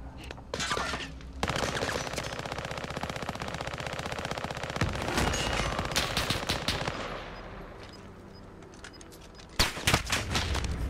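Sustained automatic gunfire in the video game Warzone rattles in long, loud bursts with dense rapid shots, pausing briefly before another sharp volley near the end.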